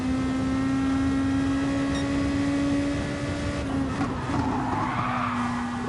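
In the GT Sport racing game, a car's rear slides out in a skid: a steady engine drone runs throughout, then scrubbing tire squeal rises near the end.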